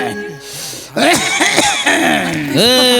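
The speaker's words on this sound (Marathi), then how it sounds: "खोकला लागलाय हो" A man on a Marathi comedy stage coughs in several harsh, throaty bursts, mixed with voiced throat sounds and speech.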